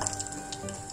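Sesame seeds frying in a pan, with a soft, continuous sizzle and faint ticking pops over one short second.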